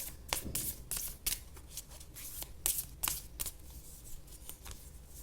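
Oracle cards are shuffled and drawn by hand in a quiet room, a run of crisp riffling and snapping strokes in irregular bursts, close and fairly soft, with no talking.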